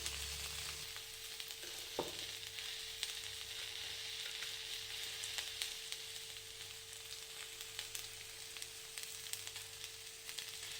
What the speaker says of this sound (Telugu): అడుగు పట్టకుండా కలుపుకోవాలండి తొందరగా మగ్గిపోతుంది బెండకాయ